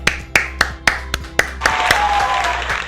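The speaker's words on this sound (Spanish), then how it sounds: "démosle un fuerte aplauso al gran doctor Hugo Salinas" An audience applauding to welcome a guest, opening with a few sharp, separate claps that quickly swell into a fuller burst of clapping near the listener.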